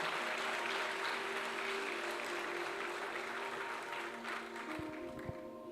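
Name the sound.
applause from a church congregation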